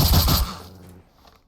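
Shotgun blasts from a worn, nearly broken shotgun in Fallout 3 fire in a quick cluster of loud shots up front, then fade into a quiet tail.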